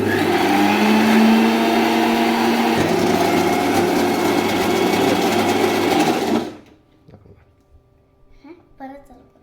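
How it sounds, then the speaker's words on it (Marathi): A kitchen mixer blends Oreo cake batter, a loud steady whirring motor that runs continuously with a pitch drop partway through, then cuts off abruptly, leaving quiet room sound and faint voices. "आता आपण मिक्सर चालू करू."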